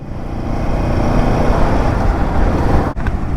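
A Royal Enfield Himalayan 450 adventure motorcycle cruises in sixth gear at around 55 mph on a faster road, its steady engine drone blended with loud, constant wind and road roar.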